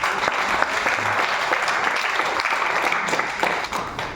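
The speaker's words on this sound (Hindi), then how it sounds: "तो आपके लिए एक बार जोरदार क्लैपिंग हो जाए" Audience applause at a business plan seminar, a dense steady clapping that fills the whole stretch at an even, loud level with no talk over it.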